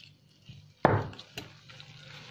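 Water is poured into zalabia dough in one brief, close splash, followed by soft, wet sounds in an otherwise quiet kitchen.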